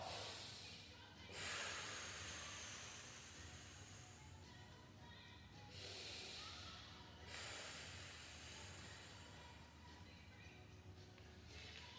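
Heavy breathing during a deadbug core exercise, with three long, forceful hissing exhales spaced several seconds apart, close and fairly loud over quiet room noise.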